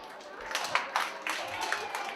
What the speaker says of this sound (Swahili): Hebu wapigieni makofi.